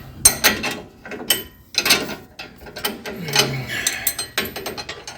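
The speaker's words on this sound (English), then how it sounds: "Install the nut and tighten this with a 21 millimeter." A ratchet wrench with a 21 mm socket tightens a nut on the suspension of a 2021 Ford Ranger FX4 during a lift install. It gives bursts of loud, close clicking in several strokes with short pauses between them.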